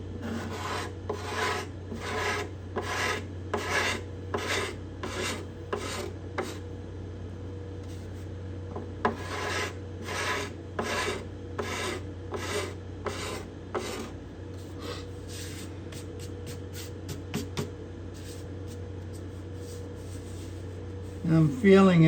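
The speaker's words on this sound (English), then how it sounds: "this cedar top makes when I'm scraping. It's a more kind of a woodsy sound, almost more of a raw" A scraper works repeatedly across the bindings and purflings of a cedar guitar top, producing a regular series of dry raspy strokes close up, with a pause midway and quicker strokes later.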